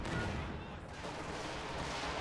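Walking Stuka rocket artillery in the Company of Heroes 2 video game: dense, continuous roar of rockets and explosions over a short stretch, noisy and rumbling with no pause.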